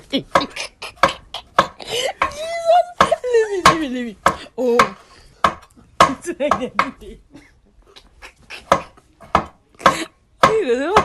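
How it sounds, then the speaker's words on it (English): A knife chops okra on a board in a home kitchen while Nigerian okra soup is being cooked, giving a run of sharp, close, irregular taps with clatter of pots and utensils and some speech in between. "After cutting your okra, you put it inside your pot."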